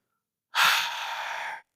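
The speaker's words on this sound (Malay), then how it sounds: "Hembuskan nafas." A single long, audible exhale through the mouth during a lower back stretch, close and fairly loud, starting abruptly after silence and lasting about a second, with no talking.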